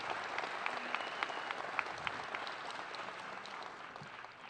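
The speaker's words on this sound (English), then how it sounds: "one more round of applause for their leadership and independence" Applause from an audience at a middle school promotion ceremony, a steady wash of many hands clapping at moderate distance for the full length, with a few sharper individual claps.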